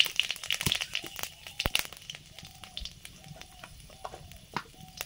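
Whole spices with dried red chilli and bay leaf crackle and spit in hot mustard oil in a pan, with irregular sharp pops and a light sizzle throughout, fairly close.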